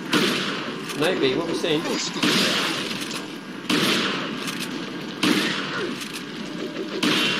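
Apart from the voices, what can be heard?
shotgun shots in Resident Evil 4 video game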